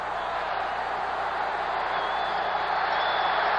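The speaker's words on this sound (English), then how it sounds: "A capacity crowd coming to life with the first major offensive thrust of the Eskimos." A capacity stadium crowd at a 1979 CFL West Final football game between Calgary and Edmonton roars in a dense, continuous wash of cheering that holds steady and loud throughout.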